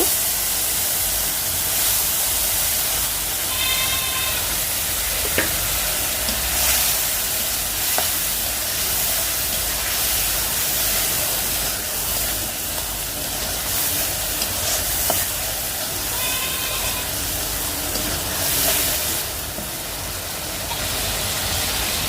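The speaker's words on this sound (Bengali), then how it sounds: "চিংড়ি মাছগুলো ধুয়ে রাখছি তো মাছগুলো আমি এর সঙ্গে কষাই নেব" Prawns frying with spices in hot oil: a loud, unbroken hiss of sizzling that runs the whole time, with occasional stirring scrapes and faint tonal chirps in the background, no speech.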